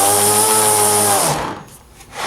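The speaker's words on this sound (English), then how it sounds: "give some air to it. It'll be a standard sander." A Blue Point AT400A air-powered DA sander runs at a loud steady high whine, then cuts off and spins down into near quiet before a brief burst of air returns.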